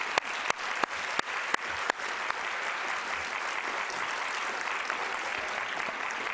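Audience applause at a morning distance-learning reading program event, opening with a few sharp individual claps before swelling into steady, dense clapping from a large crowd that holds evenly to the end.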